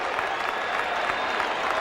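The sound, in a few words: baseball crowd cheering at Red Sox game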